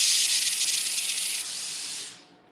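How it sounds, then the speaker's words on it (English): Laurastar garment steamer blasting a powerful, loud, steady hiss of steam, used on a silk blouse, that holds for about two seconds and then fades away. "Check out the steam that I have from Laura Star."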